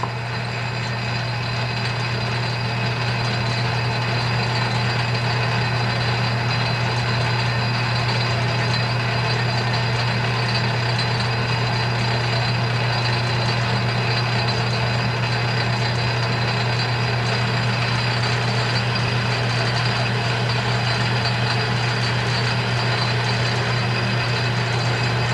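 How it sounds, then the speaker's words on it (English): A metal lathe running with its carriage feeding the cutting tool into the workpiece: a loud, continuous, even mechanical hum and drone that holds steady throughout, with no talking. "as the machine runs, you'll see the carriage go forward and the tool will begin to make its cut."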